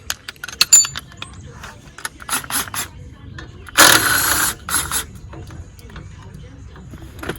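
A ratchet wrench loosens bolts on a brake line bracket of a 2010 Silverado during an upper control arm install, giving quick clicking bursts with a louder stretch midway, close by, while someone talks.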